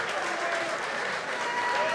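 Crowd applause and cheering at a boxing night, a sustained wash of clapping and voices in a hall, moderately loud with someone talking over it.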